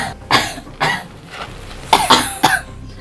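A person with a lingering two-day cough coughs loudly and close up, a pair of harsh coughs followed after a pause by a quick burst of three more, with no talk.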